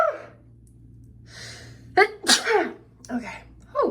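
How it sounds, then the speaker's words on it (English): A person on a morning out in San Francisco gives a sharp, close sneeze after a few breathy gasps and an inhale, followed by a short exhale. "I'm gonna sneeze."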